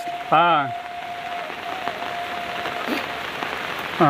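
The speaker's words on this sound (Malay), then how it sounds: "karena hari hujan" Steady rain falls in a village kampung during the Ramadan rainy season, an even hiss of drops on surfaces, broken early by a short rising-and-falling voice or call.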